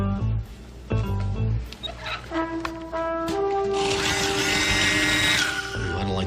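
Power drill whining up and running continuously at high pitch, loud and close, after a few clunks and bumps in a comedy scene setting.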